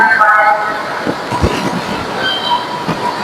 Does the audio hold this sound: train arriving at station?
yes